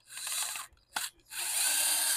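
A small electric screwdriver whirs in close bursts while removing screws from an Xbox 360 controller: one long run, a short blip with a click, then another sustained whine.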